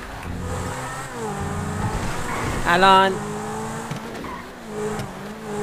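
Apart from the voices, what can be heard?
car engine accelerating in GTA video game, Lamborghini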